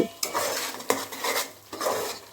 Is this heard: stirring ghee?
yes